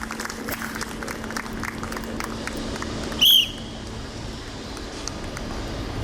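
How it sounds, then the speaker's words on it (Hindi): A crowd applauds at an outdoor Republic Day celebration after a fire team's display. The clapping is steady and fairly distant, and a short, sharp whistle cuts through midway. "जोरदार तालियों के साथ प्रोत्साहित करें।"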